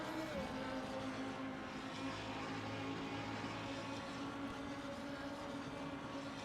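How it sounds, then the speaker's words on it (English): Race cars in Assetto Corsa at the Nürburgring, including an Audi RS1, wail around the player as a steady layered engine drone with whining tones, constant and fairly loud throughout. "I can hear the cars wailing behind me and around me"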